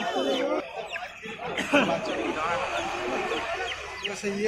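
Chickens cluck amid the bustle of an outdoor duck market, the clucks and soft calls mixed with overlapping chatter of buyers and sellers close by.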